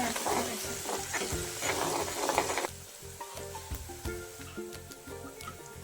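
A spoon stirs salt and curry leaves in a hot pan for podi upma, with steady scraping and sizzling throughout, loud at first and then quieter and more sparse.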